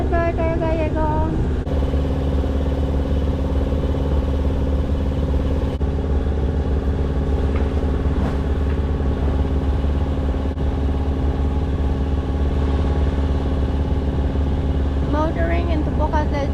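A boat motors across calm water near Bocas del Toro, Panama, with a loud, steady, close engine drone throughout and a voice speaking briefly at the start and end.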